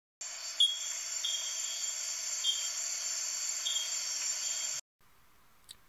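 Frogs call at night at the Anura Amphibian Sanctuary in Costa Rica, a steady high-pitched trilling chorus with short repeated chirps over it, loud and continuous before it cuts off abruptly, with no talking.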